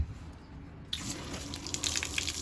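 Pink RV antifreeze gushes from an RV's hot water line drain during winterizing, a sudden steady splashing stream that starts abruptly after a quiet moment and keeps running with bright spattering.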